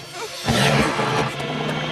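A wolf in an animated cartoon gives a low, rough growl that swells after a short pause and holds loud and close for over a second.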